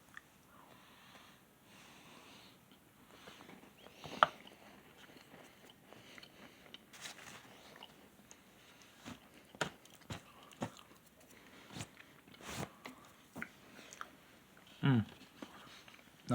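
Crumbly shortbread from a 2019 Humanitarian Daily Ration is bitten and chewed up close: quiet, irregular crunches and mouth sounds follow one another, with a sharp bite early and steadier crunching later.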